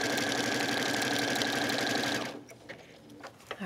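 A sewing machine stitches steadily around the curve of a quilting appliqué, a close, continuous mechanical whir that runs for about two seconds and then stops, leaving quiet room sound with a few small clicks.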